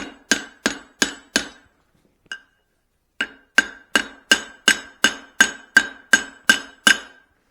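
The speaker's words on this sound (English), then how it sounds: "We'll do a little bit more forging in here." Hammer blows ring out while forging a Swedish-style cross peen hammer: five quick, evenly spaced strikes, one light tap, then a steady run of about eleven sharp, ringing hits, loud and close.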